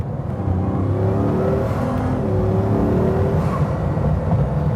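Bugatti Veyron 16.4 Super Sport accelerating hard, a loud sustained engine roar that climbs in pitch, drops at gear shifts and climbs again, heard from inside with no speech.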